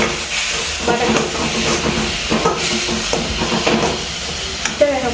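Three onions dropped into hot oil with fennel seeds and sautéed for chicken gravy, giving a continuous hissing sizzle with intermittent stirring scrapes close by, no voices.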